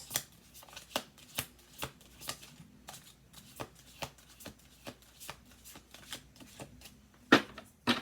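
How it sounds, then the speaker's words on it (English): Playing cards riffled and shuffled repeatedly at close range, a steady series of sharp papery bursts roughly every half second, with no talking. "One more shuffle."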